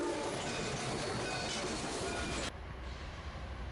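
Canadian Pacific 2816 steam locomotive passes close by with loud, rushing, broad roaring and rumbling, then cuts to a slightly quieter steady rumble partway through.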